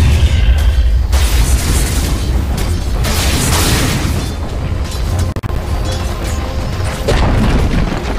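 A tower in the Dota 2 video game is destroyed, heard as a loud, sustained rumbling boom with crashing debris over about eight seconds and a brief dip near the end.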